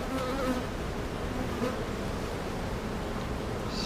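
Honey bees at an open beehive in a bee yard hum in a dense, continuous swarm buzz, steady and close throughout, with no talking.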